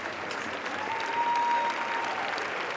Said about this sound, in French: Applaudissements pour toute l'équipe.